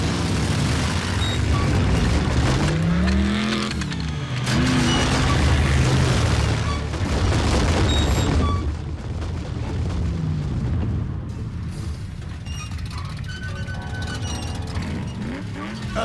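Vehicle engines revving loudly as Transformers robots in disguise roll out, a dense continuous roar with booming surges and rising whines, fading slightly toward the end, with no talking.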